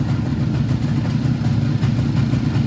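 An IZh motorcycle engine idles steadily nearby, a low continuous rumble with an even, slightly uneven pulsing throb and no talk.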